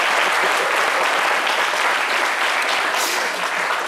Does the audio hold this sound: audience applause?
yes